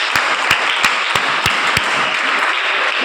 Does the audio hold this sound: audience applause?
yes